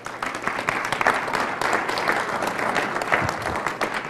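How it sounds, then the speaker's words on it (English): A room of listeners gives a warm round of applause for a breast cancer survivor speaker, dense continuous clapping at moderate volume with no talking. "So if we can give her a round of applause for Eulalia."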